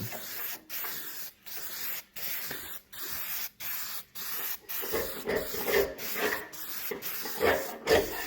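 Rustoform rust converter hisses from a spray can onto a Duramax truck frame in short, evenly spaced bursts with brief gaps between them, close and moderately quiet, growing a little louder and rougher toward the end.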